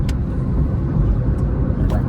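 A Swift car drives by with a steady, loud engine and road rumble that carries evenly throughout, with faint brighter swishes of passing air and no voices.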